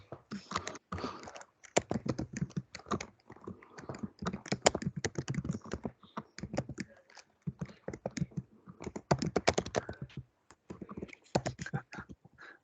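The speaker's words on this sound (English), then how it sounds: "Somebody's typing very manically. I can hear the typing, yes." Fast, manic typing on a computer keyboard in a rapid, uneven patter of clicks, faint and close, heard alone with no talk.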